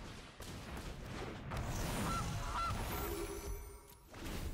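Goose honk sound effect from the card game MTG Arena: a loud honking call over a whooshing, rushing game effect, lasting a few seconds with no talking.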